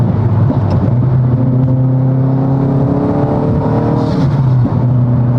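A 2022-or-later Subaru WRX's engine and aftermarket exhaust drone loudly and steadily as heard from inside the cabin, the pitch rising and falling with the throttle.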